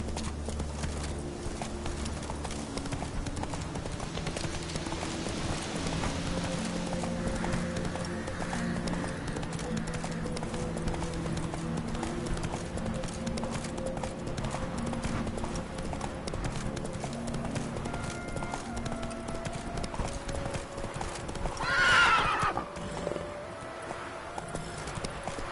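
Roach the horse gallops in The Witcher 3, a steady clip-clop of hooves under game music, with a louder neigh rising near the end.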